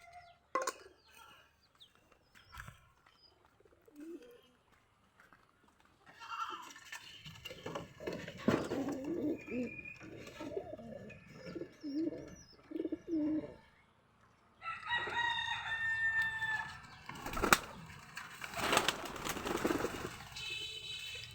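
Soft, low cooing of pigeons comes and goes, with rustling and a few sharp knocks as the birds shift about nearby.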